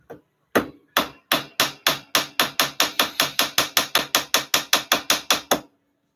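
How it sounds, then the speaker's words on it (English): A hammer strikes gold in jewelry smithing, with about twenty sharp, ringing metallic blows struck close by in a steady, slightly quickening rhythm, each decaying quickly before the next. "hammering on gold can be a very time-consuming thing"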